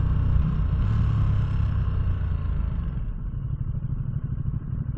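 Two Ducati motorcycles ride together on a holiday road trip, their engines giving a steady, close rumble with slight shifts in pitch as they cruise, continuous throughout with no talk.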